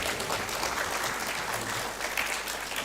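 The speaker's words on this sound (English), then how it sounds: "Continue clapping." Steady applause from an audience at a procurement and supply chain forum, a dense, continuous clapping that holds at an even level throughout with no pauses.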